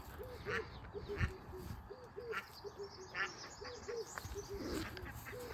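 Small ducklings on a farm give a rapid run of soft, high peeping quacks in quick repeated bursts, close by but fairly quiet, over a faint outdoor background.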